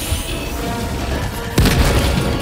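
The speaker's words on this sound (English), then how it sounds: "Grenade." A grenade explodes in the video game Helldivers 2: one sudden, heavy boom lands partway through over a steady bed of game noise, and a rumbling tail follows.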